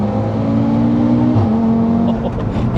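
A fully built 770bhp Audi RS3 engine roars loud and close from inside the car, its revs climbing steadily before a sharp, abrupt gear shift drops the tone and the pull resumes, with light talk underneath.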